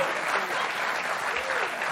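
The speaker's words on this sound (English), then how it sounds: "That always gets the applause." Studio audience at a late-night talk show clapping in steady, dense applause that holds evenly for about two seconds, close and full with a faint voice underneath.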